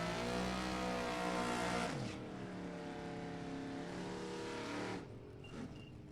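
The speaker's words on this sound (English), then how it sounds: "Pat Smith goes 1094 to 119 miles an hour" Drag racing cars, a Porsche among them, launch down the strip at an NHRA event, a loud engine roar with rising harmonic whine that cuts out abruptly, then a quieter engine drone that fades away, with no talking.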